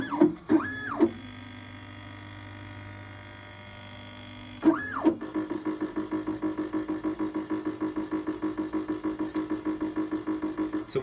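An Octave Light DLP top-down 3D printer runs a print cycle: motors whine up and down in sweeping rises, low hum sits between them, then a fast regular pulsing mechanical pattern follows, close and quiet.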